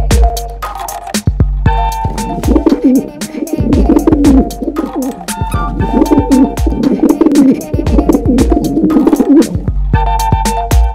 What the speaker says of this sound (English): A pigeon makes a cuckoo sound.